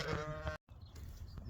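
A sheep bleats on a farm, one loud wavering call up close, followed by a short gap and then a noisier stretch of farmyard sound.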